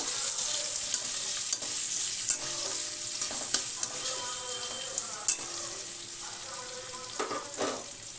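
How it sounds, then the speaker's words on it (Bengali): Chopped onions frying in a pan, a continuous close sizzle broken by repeated scraping and clacking strokes of a spatula stirring them around, with no talking. "এবার এতে দিয়ে দেবো পেঁয়াজ কুচিয়ে রেখেছি, পেঁয়াজ কুচানো। দিয়ে ভালো করে নেড়ে নেব।"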